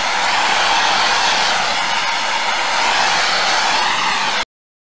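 A torch flame heats holes in a highbanker spray bar, a loud, steady roaring hiss close by that cuts off abruptly near the end, with no talk.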